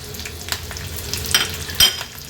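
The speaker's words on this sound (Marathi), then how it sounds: "आता यात मी हिरवी मिरची घालते फोडणीला" Green chilies sizzle in hot oil for a tempering, with a steady crackling fry broken by a couple of louder spatters and stirring clinks near the end; no one speaks.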